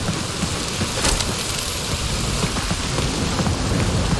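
Heavy rain pours steadily in the Guardians of the Galaxy game, a dense loud hiss of drops with a low rumble beneath and a brief crackle near the middle, no voices.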